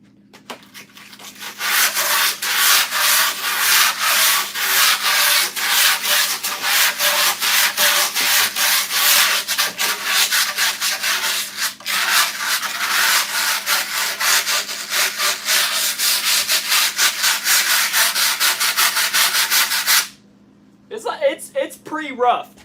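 A welding brush scrubbed hard across a surface in fast, continuous back-and-forth strokes, loud and close for about twenty seconds before stopping abruptly, followed by a short burst of other noise.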